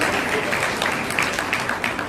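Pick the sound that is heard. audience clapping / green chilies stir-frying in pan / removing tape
audience clapping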